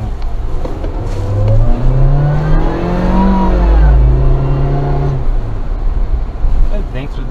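A supercharged Suzuki Jimny Sierra engine revs up loudly from close by, its pitch rising then falling across a few seconds of acceleration, with someone talking over the engine noise.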